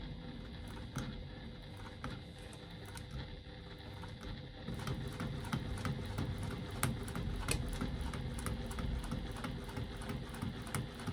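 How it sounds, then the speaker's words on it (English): A sewing machine stitching a line through faux leather: a faint, continuous mechanical whir with a fast, even needle rhythm that grows slightly louder partway through. "I'm going to do my second line of stitching"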